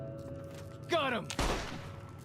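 Gunfire from the video game Fallout: New Vegas: after a faint muffled cry, a couple of sharp shots crack close by, and the second one rings out into a decaying echo.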